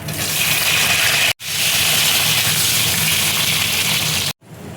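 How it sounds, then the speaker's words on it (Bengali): Potato pieces frying in hot oil produce a loud, dense, continuous hiss that fills the clip, cut off abruptly twice by short gaps. "এবার দেখো আলুটা আমি ভেজে নেব"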